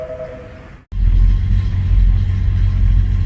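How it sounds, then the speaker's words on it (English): Steady, loud rumble of a 1974 Pontiac 455 Trans Am V8 exhaust heard from inside the cabin while driving, rising sharply after a brief cut and then holding a deep, even drone. "I think one of the best things about the exhaust system is how it sounds on the inside"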